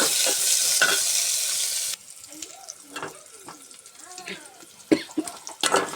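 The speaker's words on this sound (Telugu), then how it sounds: "ఆనియన్స్ కూడా బాగా ఎర్రగా వేగాలండి" Onions frying in a pan until deep reddish-brown for a village-style sour mattikaya curry: a loud, dense sizzle for about two seconds, then a quieter hiss with stirring scrapes and a voice faintly in the background.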